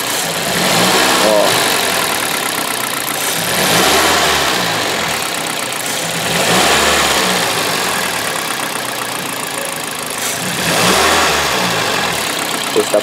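A misfiring car engine idles roughly and loudly close by, shaking, its rumble swelling and dipping unevenly every few seconds.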